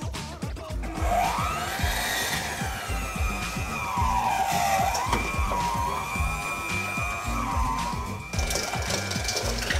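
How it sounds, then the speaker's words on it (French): An electric hand mixer whips softened butter and two sugars into smooth chocolate-chip cookie dough, its whining motor sliding up and down in pitch over a fast, rhythmic clatter of beaters in the bowl, close and continuous. "Et au batteur électrique pour obtenir une pâte bien lisse, je mélange le tout"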